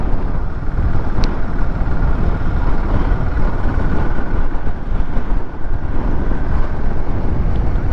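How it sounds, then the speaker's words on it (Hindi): Strong wind buffets the microphone in a continuous loud, rumbling roar at a village near Turtuk in Ladakh, with no other clear sounds. "सीरियसली देखो कितनी तेज हवा चल रही है."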